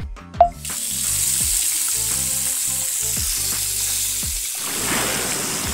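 Water rushes steadily from a tap while hands are washed, a continuous close hiss and splash that follows a short clatter at the start and runs on with no voices.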